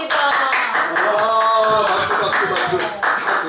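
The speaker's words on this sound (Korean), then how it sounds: "박수" A church congregation breaks into a brief burst of lively hand clapping, close and loud, with voices mingling over the claps.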